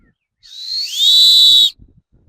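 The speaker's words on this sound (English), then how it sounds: "a lot of beginners will make a whistle sound like this." A single field hockey referee's whistle blow, a beginner's style, that starts thin and weak, then swells in strength and holds a steady shrill tone before cutting off.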